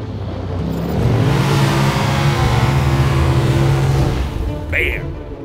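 Quad bike engine revving hard while drifting on a day out riding quads, a loud rising whine that swells and holds for a few seconds, then fades, with a brief shout near the end.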